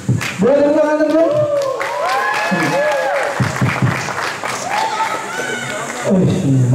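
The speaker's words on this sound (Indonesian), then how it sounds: "Boleh tepuk tangan, teman-teman?" Students at an intercultural camp clap and cheer in a lively group burst, with whoops and shouted voices over steady applause, close and loud, easing slightly before a fresh swell at the end.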